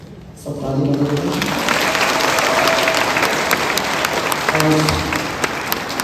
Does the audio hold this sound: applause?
yes